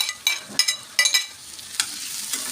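Red and yellow peppers and tomato go into a frying pan with fried garlic, bringing a soft sizzle broken by several sharp stirring scrapes and clatters, close and moderately loud, with no talking.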